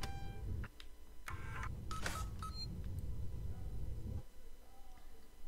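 Telephone keypad tones sound in the game Alien Isolation as a short series of distinct beeps over a low ambient hum, with some faint talk.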